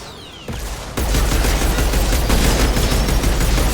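Weapons fire in the sci-fi shooter video game Mass Effect 2: after a brief quieter lead-in, a dense, continuous barrage of rapid shots erupts and holds steady and loud, like sustained automatic fire.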